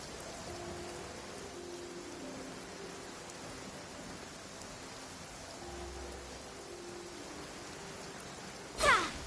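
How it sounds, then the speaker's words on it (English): Heavy rain in the Genshin Impact video game, a steady wash of drops falling evenly throughout with no voices, ending in a short loud burst near the close. "With rain this heavy, not only are the stars clouded, so too is my scryglass hazy."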